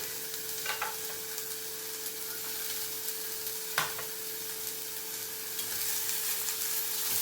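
Carrots, capsicum and peas fry in a pan for vegetable vermicelli upma, with a steady sizzle and occasional clinks as a spoon stirs them, close by and without talk.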